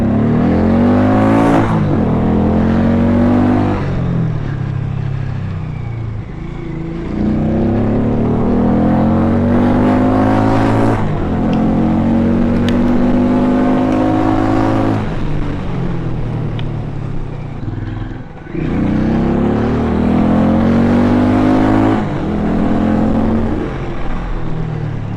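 A Harley-Davidson X440 motorcycle accelerates through its gears, engine note rising in repeated sweeps with short dips at each gear change, loud and close throughout.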